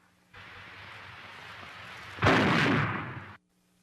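A single sharp, loud report from a German World War II sniper rifle, heard close, following a steady broadband hiss that cuts off abruptly soon after the shot.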